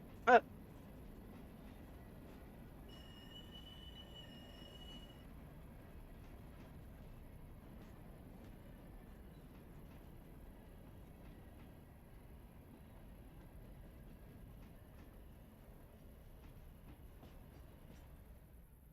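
Train cars roll slowly along the rails with a quiet, steady rumble, opening with a single sharp metallic clank, then continuing faint and distant.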